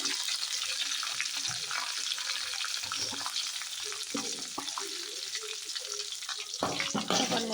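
Chopped onions, dried bay leaves, dried chillies and nigella seeds frying in hot oil, a steady close sizzle throughout with occasional stirring scrapes and a louder burst near the end.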